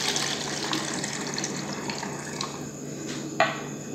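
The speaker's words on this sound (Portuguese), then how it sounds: "Colocar a água," Water poured through a funnel into a spray bottle while mixing a homemade bathroom cleaner, a steady trickling splash that holds throughout, close, with a brief knock near the end.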